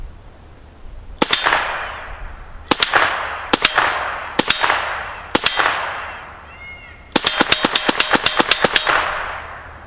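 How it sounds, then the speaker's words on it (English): Sharp gunshots ring out against an AR500 half-inch steel target plate on a range, each followed by a bright metallic ping; several spaced single shots lead into a fast string of rapid fire near the end. "There's some pretty hefty satisfaction in listening to the ping of high velocity lead"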